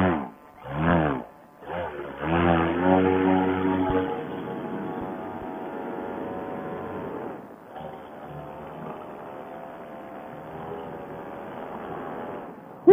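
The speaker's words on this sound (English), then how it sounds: "Electric paramotor test bed." A homemade electric paramotor prototype runs during a flight test: short throttle bursts, then a steady rising electric motor whine with a propeller buzz that holds at a moderate level, with no talk over it.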